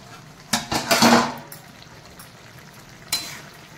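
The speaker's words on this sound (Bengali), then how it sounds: "এবার ঢাকনাটা খুলবো।" A metal lid comes off a cooking pot of kochu loti (taro stolon) with prawns, giving a close clattering burst of metallic scrapes, then a quieter stretch of low sizzle and a single later clink.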